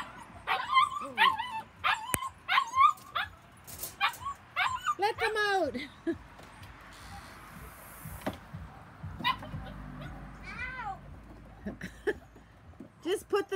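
Standard Poodle puppies, eight weeks old, whimper, yip and squeal in quick, high-pitched bursts close by, with a person talking softly over them.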